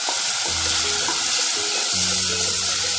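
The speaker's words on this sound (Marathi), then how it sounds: "कांदा परतून झाल्यावर मग बारीक चिरलेला टोमॅटो, हा पण परतून घ्यायचा।" Chopped tomato and onion fry in a pan with a steady, loud, hissing sizzle, with low bubbling and a few soft stirring scrapes underneath; nobody speaks.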